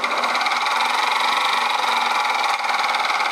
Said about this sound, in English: Some rattling coming from inside the gearbox.